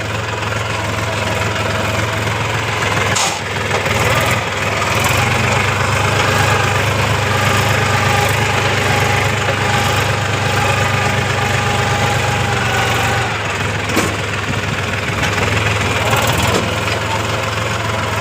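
A farm tractor engine runs steadily in an open field during GPS land-levelling setup, a constant low idling drone with a knocking edge that persists throughout, loud and close, with a few brief bumps.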